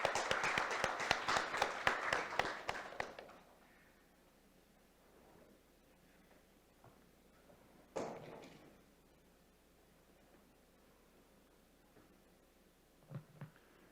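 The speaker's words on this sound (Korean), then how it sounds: "김석호 교수님을 큰 박수로 맞아주시기 바랍니다" An audience at a data forum gives a brief round of applause to welcome a university professor to the stage, a few seconds of fairly faint clapping that fades quickly, followed by a quiet room with an isolated thump and small handling noises.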